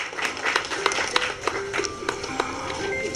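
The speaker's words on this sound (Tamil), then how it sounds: "நிர்வாக அதிகாரி ஐயா திரு கா நடராஜன் அவர்களை கரகோஷம் ஒழிக்க வருக வருக என அன்போடு வரவேற்கிறோம்" Clapping at a retirement felicitation ceremony of the Chennai Port Authority, sparse individual claps with distinct sharp hits in an irregular rhythm over a faint steady tone.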